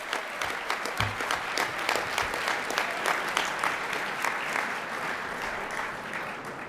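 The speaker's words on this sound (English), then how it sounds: "And that deserves an applause." Applause from a dinner audience, continuous hand clapping from a sizable room of people, moderately loud and holding steady throughout.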